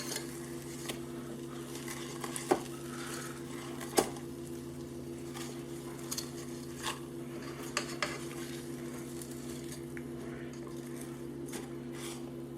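Fish fillets being flipped in an air fryer basket, with faint scraping and clinking of a utensil against metal and scattered light clicks over a steady low fan hum, no talking.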